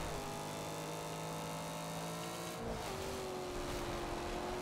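An American car's engine revs in the racing video game Forza Horizon 2, a continuous, steady drone with a pitch shift partway through, playing alone throughout.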